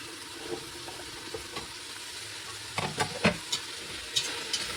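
Cut vegetables for veg pulao sauté in a pan with a low steady sizzle, broken by a few scraping stirs and clinks that grow busier toward the end.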